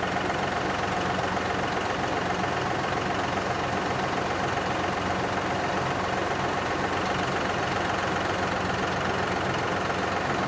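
John Deere 5075E tractor engine running steadily while driving a post hole auger into dirt, a constant loud diesel drone with heavy low rumble and no breaks throughout.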